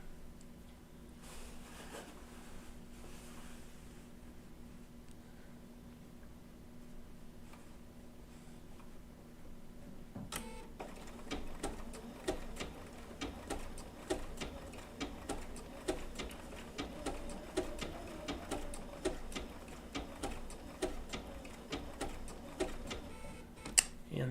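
Bernina B790 PRO sewing machine stitching wool applique with an open toe foot, a steady rapid ticking and whirring that starts quietly and grows louder and busier halfway through, close by with no talking.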